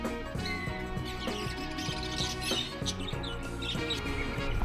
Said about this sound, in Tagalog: Ito naman mga lovebirds.